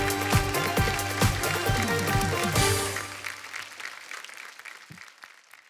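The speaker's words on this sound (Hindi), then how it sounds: "Put your hands together for our laughter के सुरमा" Loud audience applause greets a comedian stepping onto a Hindi comedy stage show, a dense burst of clapping that swells and then fades over the last few seconds.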